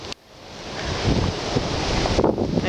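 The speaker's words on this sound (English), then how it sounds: "I guess it's 60 mile an hour wind, they're saying." A roughly 60 mph wind storm in Ontario, beside a tiny house, sends loud, continuous gusts roaring and buffeting the microphone and building in strength.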